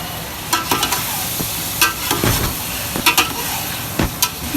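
A spoon stirs chicken and three potatoes in a pot for chicken yakhni pulao, giving irregular scraping and clattering strokes over a steady sizzle, close and moderately loud, with no one talking.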